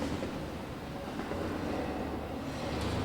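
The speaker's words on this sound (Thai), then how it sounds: "อุ้ย รถไอ้โทมัสมาแล้ว" A Thomas train rumbles toward the player in the horror video game The Tunnel, a loud, continuous low roar with a windy, rushing texture that holds steady and swells slightly at the end.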